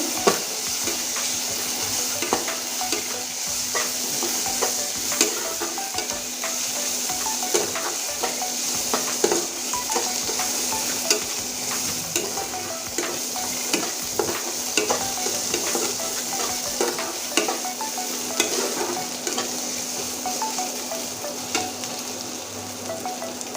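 Cumin and coriander paste with chili paste sautés in a pan for a Bengali-style aloo paratha filling. It gives a continuous close sizzle and frying hiss, broken by frequent light scrapes and clicks of stirring, with no talk.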